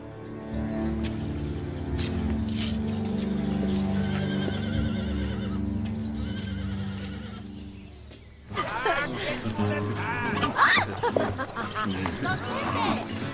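A horse whinnies and snorts over a low murmur in an action western film, then hooves clatter and shuffle busily with voices talking in the background.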